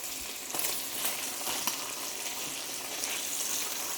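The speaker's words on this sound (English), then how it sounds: "I'm just going to give the bacon a flip" Bacon fries in a pan with a loud, close, continuous sizzle and scattered crackles and pops for a few seconds, with no one speaking.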